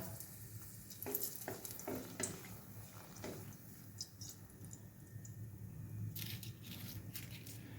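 Dried red chillies dropped into hot mustard oil in a kadai crackle and sizzle steadily, with scattered sharp pops and stirring scrapes, close and fairly quiet, with no talking.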